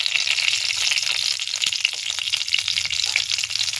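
Two slit green chillies hit a little hot oil as a tempering for a thin masoor dal with gondhoraj lemon, giving a close, steady sizzling crackle with scattered pops and no voices.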